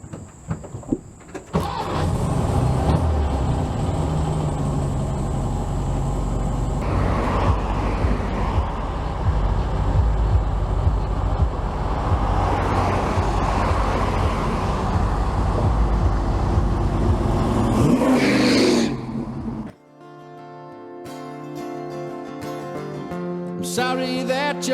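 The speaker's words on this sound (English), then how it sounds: "you guys are on the front bumper of the lowrider, so enjoy the ride. She's gonna be rough." A rough-running 1969 Volkswagen Type 3 Fastback lowrider drives along, heard up close from the front bumper as a loud, continuous engine and road rumble that cuts out abruptly near the end, where music takes over.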